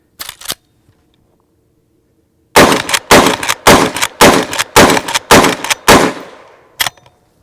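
A Henry Big Boy carbine firing 180 grain Federal jacketed hollow points booms loudly and close: two quick shots, a silent pause, a rapid string of about seven evenly spaced shots, then one final shot.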